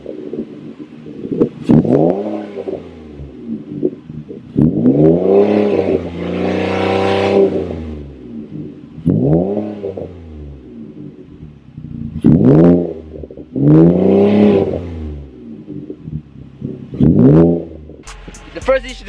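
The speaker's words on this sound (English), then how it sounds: "I'm gonna show you guys my exhaust, the muffler delete, it's a 4 Taurus." Revving exhaust of a 2004 Ford Taurus with a muffler delete, several loud throttle blips rising and falling in pitch, each burst a few seconds long with short pauses between, heard up close.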